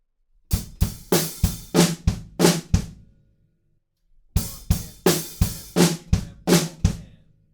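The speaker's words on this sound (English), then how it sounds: "it's just flam, kick, flam, kick. So the whole bar sounds like this." Two bars of a drum fill from a song played alone, alternating sharp flammed snare hits with kick drum beats in an even rhythm, with a short silent pause between the bars.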